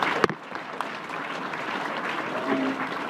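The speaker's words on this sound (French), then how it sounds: "Nous applaudissons la chorale de l'église Ebenezer." Brief burst of church congregation applause for a church choir, steady and moderately loud, with a sharp clap near the start.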